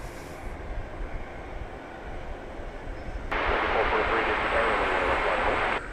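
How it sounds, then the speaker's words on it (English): A Boeing 777 arriving at DFW Airport at night after a flight from Canada: a steady distant jet rumble that jumps to a louder broadband roar halfway through, like reverse thrust after touchdown, with a voice talking throughout. "And so the big 777 touching down after a 2-hour and 46-minute flight from Canada."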